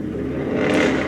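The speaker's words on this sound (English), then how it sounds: "I'm sorry if you could hear the car in the background" A car passes in the background, a broad whooshing engine sound rising and peaking toward the end of the short moment, with a single brief spoken word over it.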